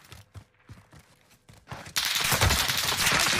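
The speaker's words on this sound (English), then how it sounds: "Taking shots here." Sustained automatic gunfire in Call of Duty: Warzone bursts in loud and dense after a stretch of quieter scattered shots and movement, then keeps firing steadily to the end.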